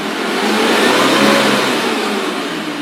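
A 2013 Suzuki Carry Futura 1.5 pickup truck engine revs up and back down in a single swelling burst, loud and close, with no talking.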